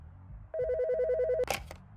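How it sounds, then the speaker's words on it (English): A telephone rings in a storeroom with one loud electronic warbling burst, then a clatter as it is picked up or knocked. "the phone in the storeroom rings"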